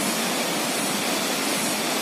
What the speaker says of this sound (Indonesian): inilah air terjun Bisapu yang ada di Bantaeng.